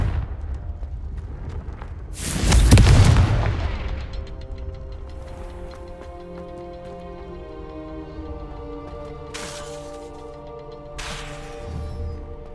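Blasting curse explosion in Hogwarts Legacy: one loud booming burst that fades into a lingering rumble over ambient game music, with two briefer whooshing bursts later.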